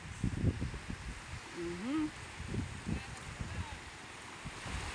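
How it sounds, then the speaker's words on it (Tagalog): Gusty wind rumbles and thumps against the microphone in uneven bursts, with a brief voice heard partway through. "Medyo malakas-lakas ang hangin"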